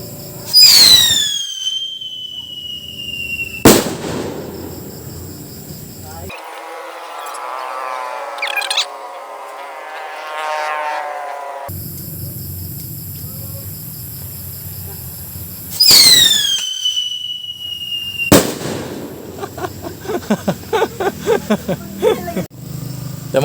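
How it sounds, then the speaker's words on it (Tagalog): Whistle rocket fireworks: rising whistles followed by sharp explosive bangs, repeated twice, with crackling bursts and a rumbling roar in between; loud and close. "Whistle Rocket Dicky ni Asta. So, small lang yan mga boss. Pero yung putok niyan mga boss, pang big na"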